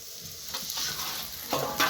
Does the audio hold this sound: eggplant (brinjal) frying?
yes